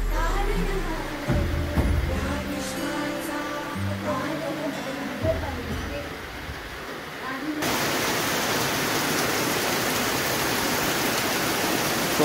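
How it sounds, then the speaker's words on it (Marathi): Heavy monsoon rain pours steadily outside a house in the Konkan region as a dense, constant hiss, close and loud. Voices and household sounds are heard early on before the rain fills the rest alone. "कोकणातील पाऊस"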